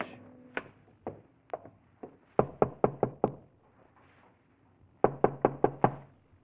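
Knocking on a farmhouse door, performed as a radio drama sound effect: crisp wooden raps come first singly, then in two quick bursts of four or five knocks with a pause between them, close and dry.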